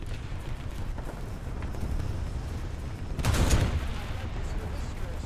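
A tank cannon fires in War Thunder, from an 8,8 cm Flak 37 Sfl self-propelled gun: a single loud boom about two thirds of the way in, rising over a steady rumbling battlefield bed.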